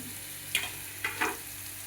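Dill greens drop into a pan of fried green chilli, garlic and coriander, giving a soft steady sizzle with three short louder bursts of frying and stirring close by.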